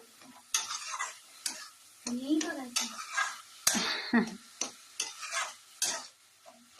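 A carrot mixture for carrot payesh is stirred and fried in a pan, giving quiet, uneven scrapes and shuffles with soft clinks between them. A faint sizzle sits under the stirring.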